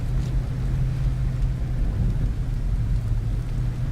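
Steady rain in the farming video game Farmer's Dynasty, a constant even hiss with a low rumbling bed, unbroken and with no voices.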